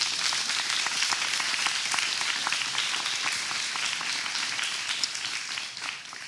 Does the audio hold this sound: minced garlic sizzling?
no